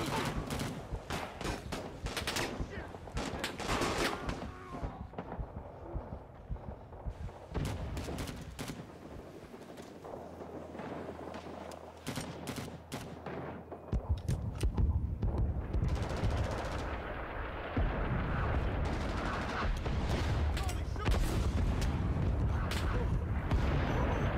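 Artillery fire in the Rising Storm: Vietnam video game on the Cu Chi map, with heavy booms and rattling gunfire throughout, loud and dense, building toward the end amid continuous battle noise.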